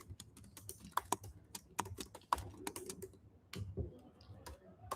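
Close, crisp typing on a computer keyboard during a competitive coding session, irregular bursts of sharp key clicks with brief pauses, moderately quiet with no one talking.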